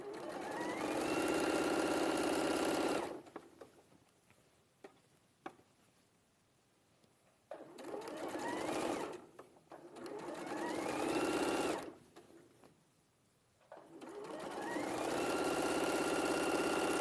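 Overlock sewing machine running in bursts along a garment seam for a hem turn-up, loud and steady for several seconds, pausing twice with quiet gaps before starting again.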